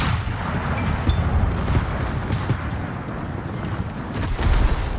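Naval guns from warships in a World of Warships-style game thunder in continuous heavy booms and rumbling blasts, loud and dense, with no speech.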